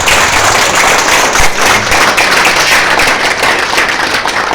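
Continuous audience applause at an iftar gathering, dense steady clapping from many hands filling the room at full loudness without a break.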